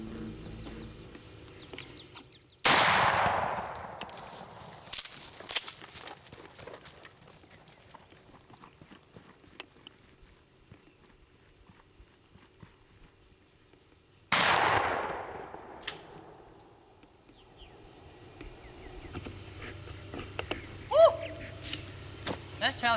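Shotgun blast while turkey hunting in northern Arizona jack pines, one sharp loud report that rings out and decays, followed by a second similar loud bang later, with faint rustling and movement between.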